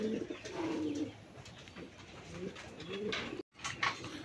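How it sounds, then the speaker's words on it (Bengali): Pigeons, a pair of Indian Bombay birds kept for sale, coo in a low, repeated rumbling pattern close by, a steady soft murmur with some faint background noise and a brief silent gap near the end. "বন্ধুরা এখানে আরেক জোড়া কবুতর আছে"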